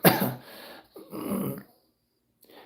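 A man with Tourette's gives a couple of short, rough coughs close to the microphone, separated by brief pauses, with no talk alongside.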